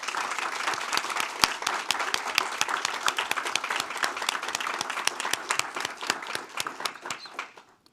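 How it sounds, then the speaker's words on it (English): An audience at a Maryland State Board of Education meeting applauds, with a dense patter of many hands clapping steadily at moderate volume before tapering off near the end. "Let's have a round of applause for Dr."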